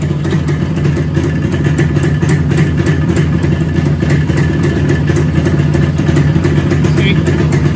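A small engine fitted with an Allied lighting coil idles steadily and close by, a constant even rumble with no revving for the whole stretch, while the headlight and lights stay on.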